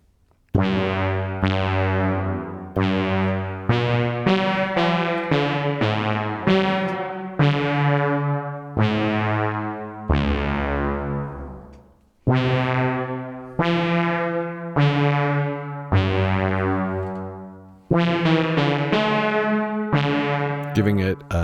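A Dreadbox Nyx v2 synthesizer plays chords in a rhythmic pattern, each note washed in a long, spacious reverb tail that lingers between hits.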